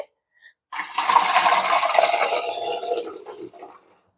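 Salted soaking water pours in a steady gush for about three seconds, then trails off, with brief small clinks before it starts, while boiling peanuts in a pressure cooker.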